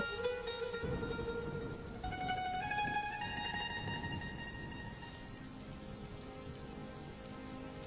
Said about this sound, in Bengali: বৃষ্টির জল যে ভাতের হাঁড়ির মধ্যে পড়ছে